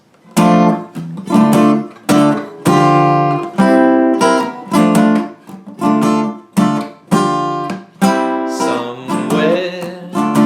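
An electric guitar plays an approximation of the horn riff from a song, punchy chord hits in a bouncy swing rhythm with short gaps between stabs, loud and close with no talking.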